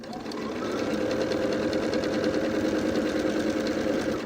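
A sewing machine stitches quilt pieces over a seam in a steady, rapid mechanical whir that runs evenly and loudly throughout, close up, with no pause.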